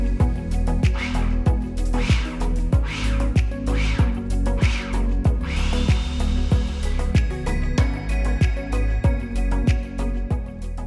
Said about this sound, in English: we're gonna pulse that all together now that our egg whites are in the food processor, just until a dough combines